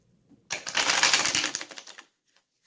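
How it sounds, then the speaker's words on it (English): A deck of tarot cards being shuffled by hand: one riffling burst of dense, papery flutter lasts about a second and a half, then cuts off into quiet. No one speaks. "I'm going to shuffle a few more times, okay?"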